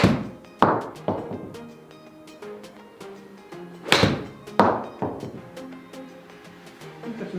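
Iron shots from a Titleist 620 MB 9 iron at 43 degrees loft, several sharp thunking impacts on a golf ball spaced across the stretch, fairly close with some ringing decay and background noise between strikes.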